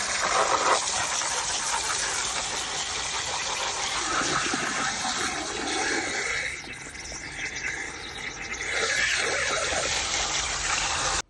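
Water sprays and gushes steadily as a removed turbocharger cold side housing from a 1.9 TDI hybrid turbo rebuild is washed out, a loud continuous hiss of running water with a brief dip partway through.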